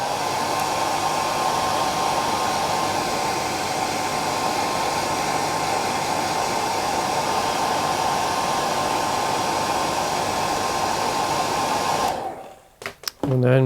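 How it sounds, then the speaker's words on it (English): A hair dryer blows steadily at close range for about twelve seconds over a freshly tied Czech nymph fly, a constant loud whoosh with a humming tone, then cuts off abruptly with a few brief handling noises. "I'm going to use the hairdryer just to speed the process up."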